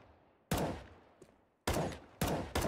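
Automatic rifle spray fire in the video game CS:GO, four loud close bursts of rapid shots, each cut off sharply, separated by brief quiet.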